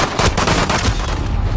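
Loud rapid gunfire from a shotgun-focused Call of Duty multiplayer match, a dense burst of close repeated shots filling the whole moment without pause.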